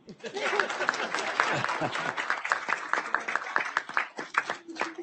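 Brief applause at a school board of trustees meeting, a small group clapping in scattered, uneven bursts with a few voices talking over it.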